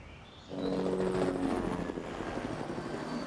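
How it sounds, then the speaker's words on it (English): A helicopter flies close by with a loud, steady rotor and engine roar that swells in after a quiet start and holds with a fast chopping pulse. "The helicopter is registered under India Gulf 2206 with a logo from Alpha Gas."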